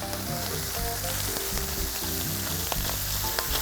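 Turkey legs crisping in confit fat, a loud, even crackling sizzle throughout, with faint tonal hum beneath and small pops of spitting fat.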